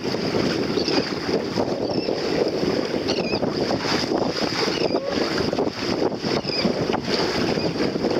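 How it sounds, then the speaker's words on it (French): Steady wind gusts buffet the microphone over a continuous rushing noise, with faint watery movement beneath, outdoors by the water after sailing lessons. "Parce qu'il y a des petites risées, donc il y a du vent."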